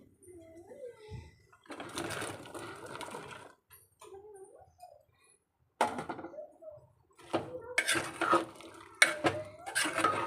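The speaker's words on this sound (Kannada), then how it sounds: "ನಾನಿವಾಗ ಕಟ್ ಮಾಡಿ ಇಟ್ಕೊಂಡಿರುವಂಥ ತರಕಾರಿಯನ್ನು ಹಾಕ್ಕೊಳ್ತೇನೆ" Cut vegetables are added to cooked lentils in a pot, with clattering scrapes and clinks of a spoon in separate bursts and someone talking between them.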